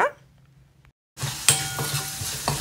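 Zucchini stir fry with coriander powder, masala powder, salt and chilli powder being stirred in a pan, a steady sizzle after a brief silence, with scraping clicks of the spatula against the pan, close and without talk.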